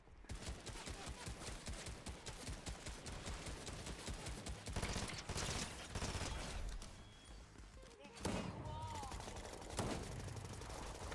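Rapid bursts of automatic gunfire fill a Fortnite match, with dense, repeated shots going on almost nonstop, plus a few heavier blasts and mechanical clatter, all fairly loud and close.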